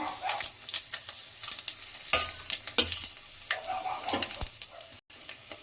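Sliced onions fry in about 50 grams of hot oil with bay leaves for vegetable pulao, a constant close sizzle broken by scraping stirs and clinks of the spoon against the pan, with no voices.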